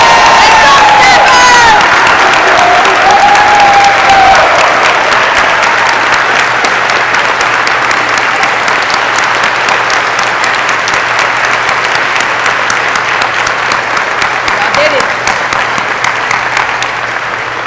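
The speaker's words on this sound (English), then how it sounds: "Please join me in a round of applause for these outstanding warrant officers." Sustained applause from a large audience at a military graduation ceremony for a warrant officer candidate class, loud and steady for the whole stretch, with a few cheers mixed in early on.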